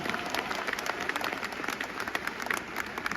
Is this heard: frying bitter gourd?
no